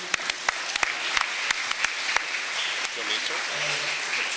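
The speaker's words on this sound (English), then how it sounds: "Let's hear one more round of applause for all these wonderful graduates as they start lining up." Audience at a 2025 Composite High School graduation ceremony applauds the graduates, a steady wash of clapping with sharper individual claps standing out, moderately loud and sustained throughout.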